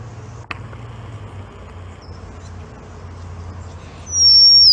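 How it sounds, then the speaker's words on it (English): A sparrow sings in misty outdoor surroundings, a thin high whistled phrase rising clearly near the end over a low steady background rumble, heard at moderate distance. "So you'll see these two birds there, one of them singing,"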